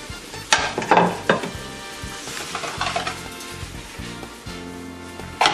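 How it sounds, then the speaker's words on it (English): Tomato and garlic pasta is tossed in a hot pan, giving a soft sizzle broken by several sharp clattering bursts as the pan is shaken, all close by with no talk. "Toss that pasta one last time."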